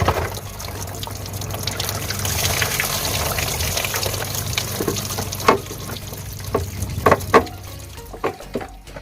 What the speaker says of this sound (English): a lot of water is going to come out